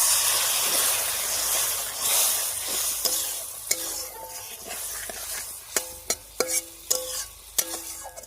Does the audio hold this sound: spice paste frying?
yes